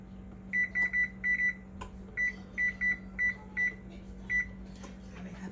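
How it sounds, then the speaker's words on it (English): A kitchen oven timer is set with a run of short electronic beeps, about a dozen quick key-press tones in irregular bursts over a steady appliance hum. "I put the timer on for 45 minutes."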